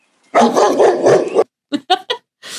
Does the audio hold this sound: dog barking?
yes